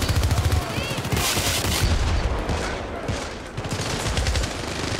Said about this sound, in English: Just keep shooting him.